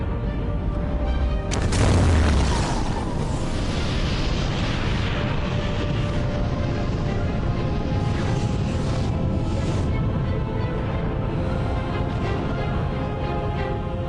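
A massive cosmic collision as the protoplanet Theia crashes into Earth, rendered as a documentary impact effect: a sudden deep boom that swells into a long, roaring, rumbling wash, loud and sustained throughout.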